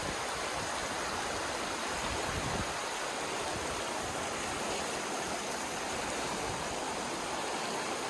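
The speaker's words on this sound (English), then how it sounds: "you got a little bit of a stream, waterfall trickling down out the cliff here" A small stream and a waterfall trickle down a cliff at natural hot springs in Idaho. The water makes a steady, even hiss that goes on without a break, with no voices.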